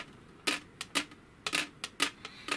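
Hard LARP plate armor pieces clack together in sharp, uneven clicks, about ten in quick succession as someone moves, close and crisp against quiet.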